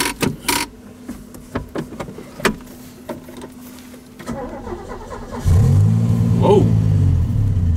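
Stage-2 engine in a 1981 DeLorean DMC-12 with electronic fuel injection: a few clicks and a whirring starter, then the engine catches and settles into a loud, steady close-up idle rumble.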